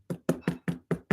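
Six sharp, evenly spaced knocks as a handmade notebook is tapped to shake loose excess embossing powder, each thud close and distinct with brief silence between.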